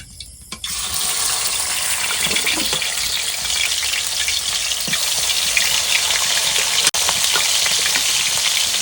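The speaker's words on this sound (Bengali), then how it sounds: "বন্ধুরা এবার সব মাছগুলো আস্তে আস্তে ভেজে নেব" Snakehead fish frying in a pan produce a loud, continuous, close sizzle that starts abruptly and crackles steadily for several seconds, broken once by a sharp click.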